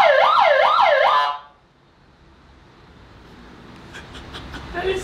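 A newly installed police car siren under test gives a loud, rapid yelp-style wail for about a second, then cuts off, leaving faint background noise and a few light clicks.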